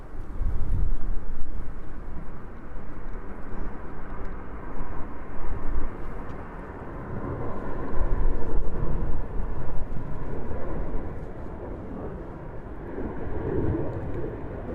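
WestJet airliner passes at JFK airport, a distant, wind-buffeted jet rumble that rises and falls over about fifteen seconds, low and moderately loud with no voices.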